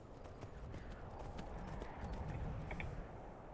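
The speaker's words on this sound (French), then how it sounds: "Je lui fais faire monter n'importe quoi au cheval" Horse hooves clip-clop at a steady, rhythmic pace while riding in the video game Skyrim, faint and continuous over low background ambience.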